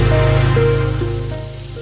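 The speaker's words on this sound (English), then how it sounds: "Now add the chicken pieces and shallow fry it on both sides, flipping in between." Steady, close crackling sizzle of chicken pieces shallow frying in hot oil, with a faint tonal hum underneath.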